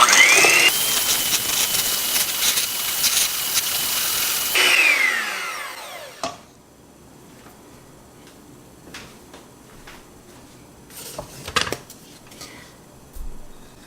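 An electric hand mixer whirs loudly as it beats egg yolks and salt into chiffon cake batter in a bowl, then cuts off midway, leaving quieter clinks and taps of utensils and bowl.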